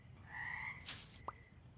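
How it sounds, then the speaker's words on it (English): Frogs in the game Mudborne croak, with a short warbling call and a single sharp chirp standing out clearly over a quiet ambient backdrop. "Normal looking frogs."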